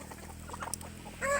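Chickens cluck softly at a distance while being fed corn in the morning, with low background hum and a slightly louder clucking burst near the end.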